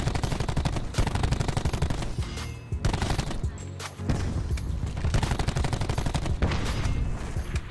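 Rapid automatic gunfire in the shooter game Call of Duty: Black Ops 4 comes in loud, close bursts, with brief gaps between volleys.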